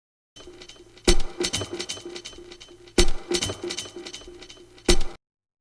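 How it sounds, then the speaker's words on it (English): A dry percussion loop repeats, its sharp accented hits landing about every two seconds over a steady busy pattern of clicky rattling strikes, played alone with no voices. "which is just a percussion loop"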